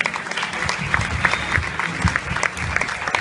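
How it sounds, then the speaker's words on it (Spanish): Audience at a graduation ceremony applauding to welcome a performing singer, a steady, fairly loud wash of many hands clapping throughout the short stretch. "Recibámoslo con un fuerte aplauso"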